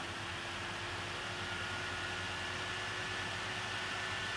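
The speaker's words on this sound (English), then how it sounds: "You should hear the fans going really faster." A steady, faint whooshing hum of MacBook cooling fans spinning at higher RPM, constant airy noise with a thin tonal whine and no talking.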